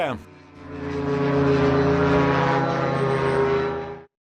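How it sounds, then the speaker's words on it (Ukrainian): Ukrainian long-range strike drone engine starting up at launch, a steady propeller drone that builds into a loud, sustained buzz for several seconds before cutting off abruptly. "Це українські ударні далекобійні дрони Бобер, Лютий та Валькірія."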